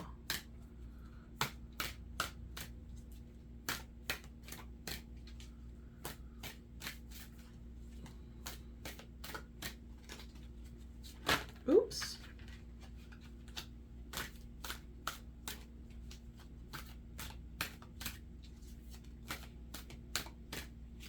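Oracle cards shuffled and pulled from a deck, a long run of crisp riffling snaps and flicks at an irregular pace, close and quiet, with one brief louder rustle midway over a faint hum.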